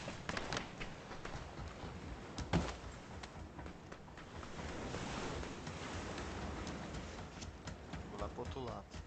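Waves and surf wash steadily over open water as a motorboat passes, a broad continuous rushing roar outdoors, with people talking nearby.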